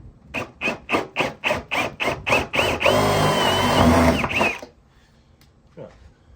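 A power drill opens a hole out to 12mm, first in about nine rhythmic bursts, then in one steady loud whine lasting nearly two seconds. It stops abruptly, leaving quiet with a faint knock.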